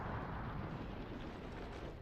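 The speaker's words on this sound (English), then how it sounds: "What the explosions? What is that?" Explosions from the space exploration video game Outer Wilds, heard as a continuous deep, broad rumbling roar that stays loud and steady throughout, with no voices over it.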